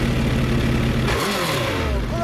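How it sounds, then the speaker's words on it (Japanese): A 2016 Suzuki GSX1300R Hayabusa motorcycle engine runs loudly and steadily nearby, its low rumble rising slightly in pitch as it revs. "エンジン聞かせてもらえる？"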